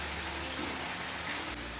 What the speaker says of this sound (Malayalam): നല്ല മഴ.